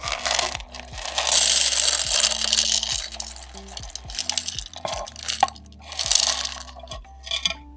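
Coffee beans pour into the bean hopper of a Breville Barista Touch espresso machine. The result is a loud, rattling hiss in several bursts with scattered clicks, and no one speaks.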